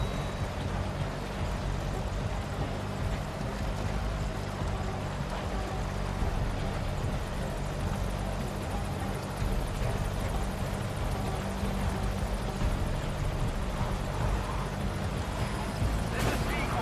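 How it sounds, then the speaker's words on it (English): In the Metal Gear Solid 5: The Phantom Pain game, a support helicopter arrives at the landing zone. Its rotor drone roars continuously and fairly loud for the whole span. "Support helicopter has arrived."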